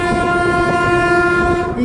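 The Chamundi Express pulls into Kengeri railway station, its loud sustained horn blaring close by over the rumble of the train throughout.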